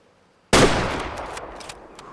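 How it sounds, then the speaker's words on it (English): A single loud Steyr .243 hunting rifle shot in the hunting game The Way of the Hunter: a sharp crack after half a second of quiet, then a long rolling echo that fades out. "And we'll fire the Stayer as well."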